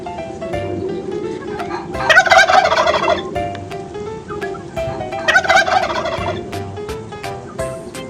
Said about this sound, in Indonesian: Namanya kalkun atau dalam bahasa Inggrisnya turkey.